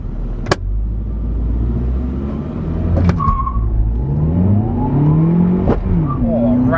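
A Volkswagen Polo accelerates hard up through the gears, the engine note climbing, dropping sharply at each shift and climbing again, recorded loud and close from inside the car with brief clunks between changes.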